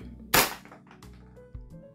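A WE Hi-Capa Type K green gas airsoft pistol fires one sharp, close crack, followed about a second later by a second, softer report.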